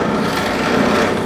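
A .223 brass casing being trimmed down to .300 Blackout, giving a brief, close, continuous gritty rasping of a cutter working the brass, with no talk.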